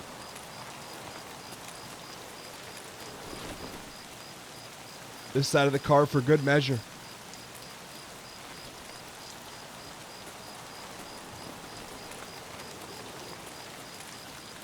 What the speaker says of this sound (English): So good news is that the rain masks our steps.